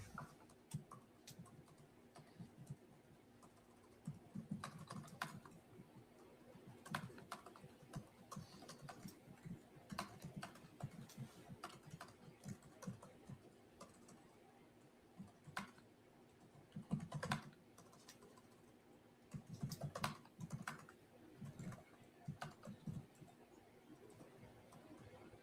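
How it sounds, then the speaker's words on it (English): Steady typing on a computer keyboard in a courtroom during a live hearing, continuous quiet clicking bursts over a low room hum, no one speaking. "You can hear the keyboard."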